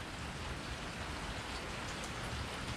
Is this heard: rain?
yes